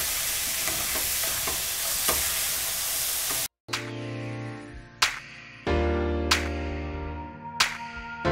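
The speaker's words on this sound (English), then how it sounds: "So as you cook this meat further," Ground meat for spaghetti bolognese fries in a hot pan as a loud, steady sizzle that suddenly cuts out. Sharp ringing clanks follow, spaced a second or so apart, close and with no talk.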